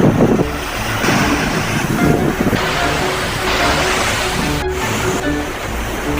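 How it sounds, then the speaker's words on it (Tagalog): Strong ocean waves crashing on a beach shore, a loud continuous roaring surf with wind buffeting the microphone, close and steady throughout. "Yung alon kasi medyo malakas ang hampas"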